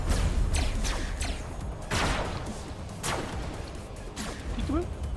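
Rail cannons fire in the Robocraft robot-battle video game, several sharp whooshing shots cracking out at irregular intervals over a steady loud game soundscape, with a player talking.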